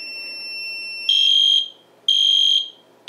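A shrill, steady electronic fire alarm tone blares in two long bursts, each about half a second or more, separated by a short gap, loud and close.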